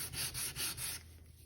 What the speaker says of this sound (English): it's just a matter of sanding the piece until it fits snugly into the hole